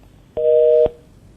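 A telephone busy tone after a dropped phone line: one loud, steady electronic beep lasting about half a second, clear against a quiet background.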